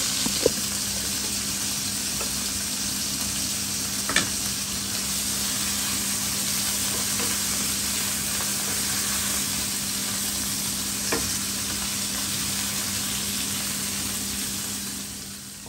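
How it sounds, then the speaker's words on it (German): Steady, loud sizzling of US beef hip steaks frying in hot oil, a continuous hiss with a few small pops and crackles. "Außerdem wieder heißes Öl."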